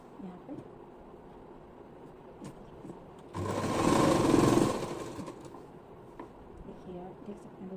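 A sewing machine stitches a belt onto a salwar, one steady whirring run of about a second and a half that rises out of quiet room sound and then stops, with a voice speaking around it.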